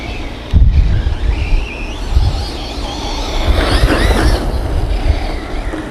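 A Vkar Racing SCTX10 V2 4WD short course RC truck running at half throttle outdoors, a steady broadband motor whine and wheel rumble that holds loud and continuous throughout, with a whooshing swell midway.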